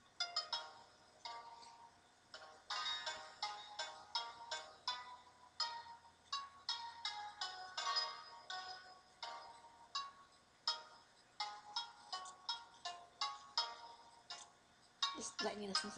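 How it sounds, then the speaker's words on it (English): Final boss music from the Nintendo DS game Mini Ninjas plays alone, with bright, clipped percussive notes in a quick, steady rhythm and a sudden loud burst at the end. "Just letting you listen to this music because it's so cool."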